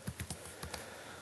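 Several quick keystrokes on a computer keyboard during a beginner programming lesson, a short burst of about five light taps followed by quiet room tone, with no talking.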